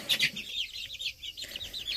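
Chickens cluck repeatedly close by in a quiet backyard coop at feeding time, a rapid series of short calls starting with a louder burst.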